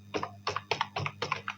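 Typing on a computer keyboard in Photoshop, six quick evenly spaced key clicks in a steady rhythm, close and clear over a faint low hum.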